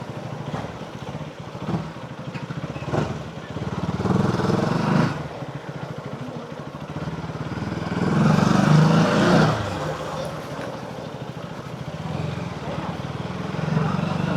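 A KTM Duke 250 motorcycle pulls at low RPM on a ride to work, its steady engine drone swelling into a louder howl midway, with a voice talking over it.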